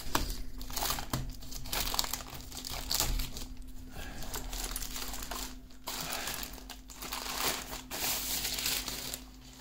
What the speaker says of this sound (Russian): Так, откроем эту клавиатуру.